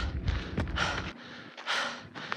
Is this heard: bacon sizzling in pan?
no